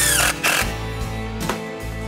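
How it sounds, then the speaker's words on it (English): Screws being driven into a wooden block beneath a DIY storage shelf, short whirring bursts from a power driver with brief pauses between them, close and loud. "we're going to drive a couple more screws in to a block just underneath the backside"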